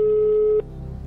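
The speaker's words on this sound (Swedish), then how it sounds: "Men vi ringer Henrik nu" A telephone tone rings out steadily for about half a second on a call placed during a TV quiz show, then cuts off, leaving a faint line hum.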